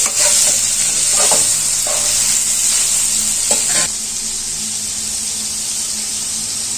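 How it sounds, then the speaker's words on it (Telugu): Turmeric is stirred into cauliflower masala frying in a pan, with a steady loud sizzle and several short scraping strokes of stirring near the start. "పసుపు వేసుకొని అంతా ఒకసారి కలుపుకోవాలండి"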